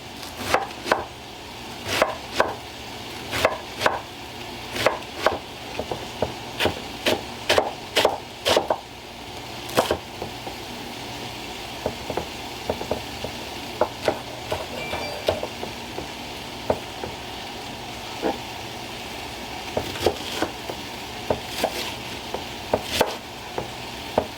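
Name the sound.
chopping cabbage with a knife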